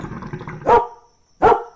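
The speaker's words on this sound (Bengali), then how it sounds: "কুকুরটা ঘেউ ঘেউ করে উঠে দাঁড়ালো" A dog lying in a corner of a veranda beside a dark courtyard barks twice, sharp and close, the second bark following a short silence after some low background rumble.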